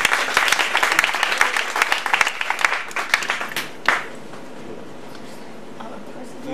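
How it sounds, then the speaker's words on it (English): A crowd at a high school matric dance applauds with lively clapping for a few seconds, then it trails off into quiet room noise. "A round of applause again for them."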